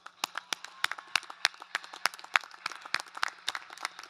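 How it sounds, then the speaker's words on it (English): Sparse clapping from a small group at a Santiago Canyon College commencement ceremony, individual claps standing out in an uneven rhythm, fairly faint and distant. "Let's give them a hand of applause."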